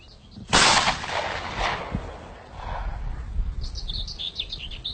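A smoothbore hunting shotgun fires a single loud outdoor blast that rolls off into a decaying echo, with birds chirping afterward.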